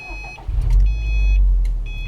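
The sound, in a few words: 2014 Subaru STI engine starting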